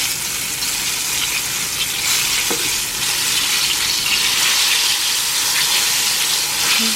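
Chicken legs deep-frying in hot oil for an adobo-flavored fried chicken, a steady dense sizzle and bubbling crackle running throughout, close and loud with no voices.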